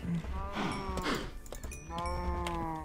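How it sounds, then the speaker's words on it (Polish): Cows moo in the Minecraft video game, several long, tonal game-audio lows overlapping one another, steady and fairly loud with brief clicks between them. "Wszystkie rozmnożone krowy."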